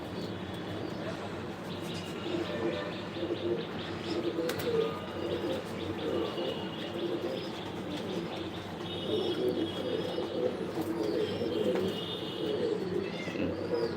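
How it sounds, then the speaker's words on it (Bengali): A Kevin Dislain racing pigeon coos in a loft, soft low calls repeating over a steady bed of other birds chirping and faint wing flutters, fairly close and continuous throughout. "এটা একটা কেভিন ডিসলাইনের কবুতর"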